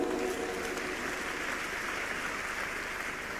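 A church congregation claps together in a steady, dense burst of applause that fills the space evenly, with no voices over it.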